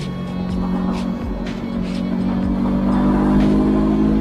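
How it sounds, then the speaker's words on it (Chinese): A QJmotor Flash 600 V4 motorcycle accelerating on a race track, its engine droning steadily and building in loudness over a few seconds, close and continuous. "那胎温上来，水温也能上来的时候，我们就把车速提起来"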